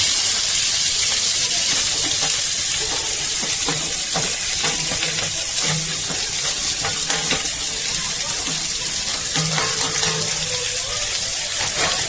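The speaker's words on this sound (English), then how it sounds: "This is called saute and stir fry." Ginger, onions and capsicum stir-fried in hot oil for veg chowmein, a steady close sizzle with scraping and clinking of a utensil stirring in the pan, continuous throughout.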